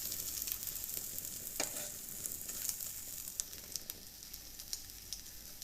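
A homemade egg frying in a pan gives a steady, close sizzle with scattered crackles and pops throughout, with no talking.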